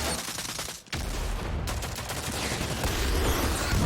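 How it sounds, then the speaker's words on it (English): Dense, sustained gunfire pours in during a Rogue Company match on the Umbra map, loud and close, with a brief gap near the start before the barrage continues unbroken. "Getting shot from behind."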